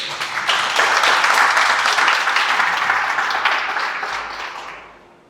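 An audience gives a strong round of applause for the audiovisual crew member at a sponsorship talk, a loud, dense wash of clapping that holds steady and then fades out toward the end.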